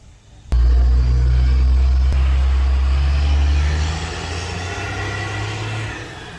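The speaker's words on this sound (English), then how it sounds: "That is a truck going out with 3 light poles on it" A heavy truck hauling three light poles rolls past close by, its deep engine rumble starting abruptly, staying loud for a few seconds, then easing slightly as it moves on.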